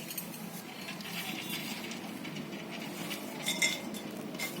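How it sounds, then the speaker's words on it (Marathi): Coconut and roasted gram dry-roasting in a pan for a masala stuffing for brinjal, heard as a steady low rustling with faint light clinks and scrapes throughout, no talking. "खोबरं, फुटाणे हे असं भाजून घेणार आता"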